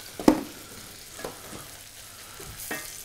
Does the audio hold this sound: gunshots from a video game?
no